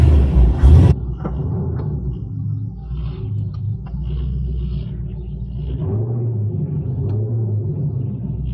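Modified car with ground effects, its engine running with the line lock engaged after a repair, a deep steady rumble close by that lasts the whole stretch after a short burst of noise at the start.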